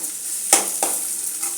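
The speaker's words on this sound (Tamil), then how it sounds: "முள்ளங்கி வதங்கிக்கிட்டு இருக்கு" Radish sizzles as it sautés in hot oil in a pan, with a soft steady frying hiss and two or three brief stirring scrapes close by.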